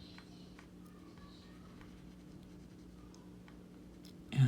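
A pen scratches across paper in soft, steady strokes, close and quiet over a low background hum, ending with a brief louder bump.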